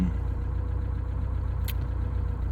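Ford Scorpio 2.0i engine idling while it warms up after a thermostat replacement: a steady, low, even rumble with a faint regular pulse, heard alone at close range.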